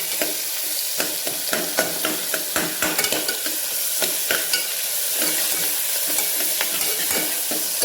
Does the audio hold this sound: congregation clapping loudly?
no